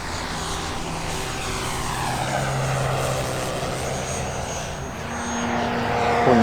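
A steady propeller drone of an electric Hangar 9 Ki-43 Oscar model warbird flying slowly overhead, loud and continuous, swelling slightly toward the end.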